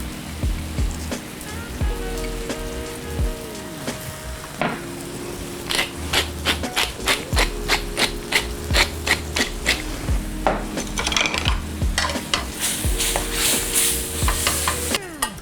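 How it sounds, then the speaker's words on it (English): A sauce for chicken saltimbocca simmers and reduces in a pan as a spoon stirs it, giving soft bubbling and sizzle with repeated scraping strokes and clinks, growing busier toward the end, no talking. "I want to bring this to a simmer. I'm going to reduce it a little bit and it's going to thicken up."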